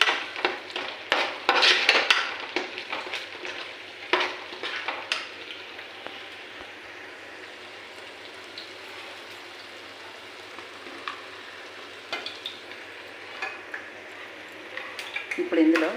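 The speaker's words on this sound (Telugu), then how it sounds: "పచ్చివాసన పోయి ఎరుపు రంగు కొద్దిగా లైట్గా వచ్చిందాకా వేయించుదామండి దీన్ని" Masala sizzling in a pan while being stirred, with a bright frying hiss and scraping, clinking spoon strokes that come in bursts near the start and end; a voice talks over it at times.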